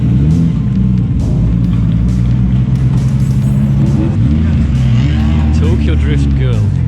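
A Toyota Chaser drifts on a wet race circuit, its engine droning loud and continuous with rising revs and a steady rumble throughout, under a voice commentating.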